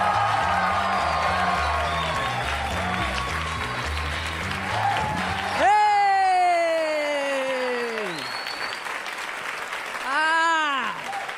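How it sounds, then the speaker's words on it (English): Studio audience applause and cheering greet a comedian taking the stage in New York, a dense clapping roar with whoops, joined by loud sustained tonal cues sweeping in over the crowd midway. "Warm round of applause for Dave Temple"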